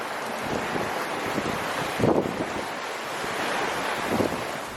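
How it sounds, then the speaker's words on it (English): Ocean waves and gusting wind at sea aboard a sailboat heading east from Bocas to Colon, a constant roaring wash with wind buffeting the microphone and two louder wave surges breaking against the hull. "7 to 10 knots of wind is just not enough to keep the sails up in these waves"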